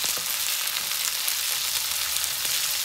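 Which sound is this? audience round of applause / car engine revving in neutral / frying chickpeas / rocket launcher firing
frying chickpeas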